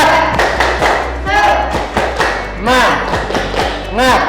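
Schoolchildren perform a 'tepuk semangat' rhythmic clapping chant, with loud, patterned thuds and claps in quick groups mixed with voices chanting along.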